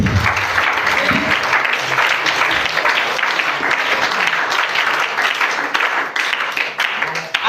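A congregation at a French-language church seminary applauds steadily and loudly, a dense wall of clapping from many hands that holds for the whole stretch with a slight fade at the end.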